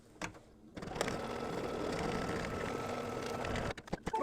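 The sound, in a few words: embroidery sewing machine stitching batting in a hoop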